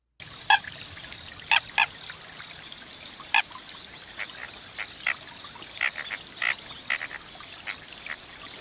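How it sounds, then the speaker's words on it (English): An American coot's low croaks and short grunting calls repeat irregularly over quiet background, some sharp and close, others softer. "American coots make a variety of grunts, croaks, and squawks."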